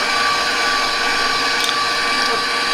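An electric mixer whirs loud and steady, beating cream cheese in a bowl with a constant motor drone for cloud bread.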